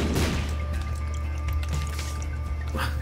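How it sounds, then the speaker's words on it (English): Bomb blast from The Binding of Isaac: Afterbirth as the character takes self-inflicted explosion damage, a dull boom at the start of a steady loud game soundscape with a brief burst near the end. "So I can bomb myself now."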